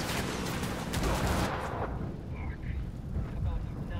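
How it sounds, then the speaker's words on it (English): Bursts of gunfire in Tom Clancy's Ghost Recon Wildlands, loud and sustained for the first second and a half, then fading to quieter background combat rumble with scattered shots. "Where are they shooting from?"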